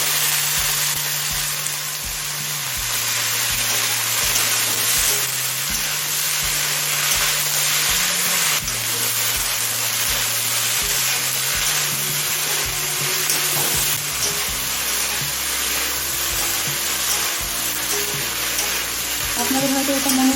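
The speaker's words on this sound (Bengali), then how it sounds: "গাজর আর আলুটা ছ সাত মিনিট হাই করে ভেজে নিয়েছি এখন বেগুন আর পেঁয়াজ তেলটা দিয়ে দিলাম" Carrot, potato, eggplant and onion fry in oil for an egg and vegetable dish, a continuous loud crackling sizzle with repeated rhythmic scraping and stirring throughout.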